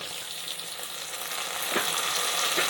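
Tomatoes frying in oil in a pan for chicken sherva, a steady loud sizzle with crackling and occasional stirring scrapes, no voices.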